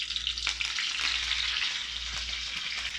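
Mustard seeds, dried red chillies and curry leaves crackle and spit in hot oil for a Tamil egg curry tempering, a steady close, bright hiss with scattered pops throughout and no talking.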